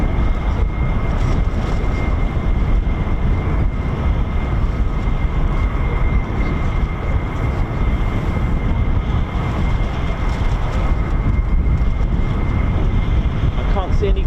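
A USAF F-35 fighter jet of the 48th Fighter Wing taxiing at RAF Lakenheath gives a steady, loud engine roar with a constant hum, continuous throughout with no clear pauses.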